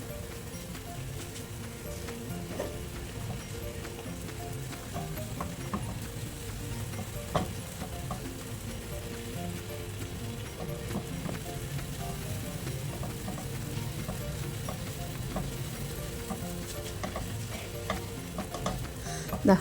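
Semolina being stirred and kneaded in a hot pan for a banana rava snack, a steady scraping, sizzling texture with small clicks and knocks, continuous and fairly close, with no voices.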